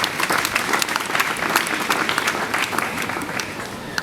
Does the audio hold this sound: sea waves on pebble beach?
no